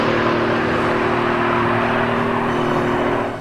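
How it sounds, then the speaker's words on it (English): Stirling GT sports car from GTA Online, its engine droning in a steady, loud, smooth roar with a constant pitch, close and continuous before easing slightly at the end. "definitely has my vote for the best sounding car in the game"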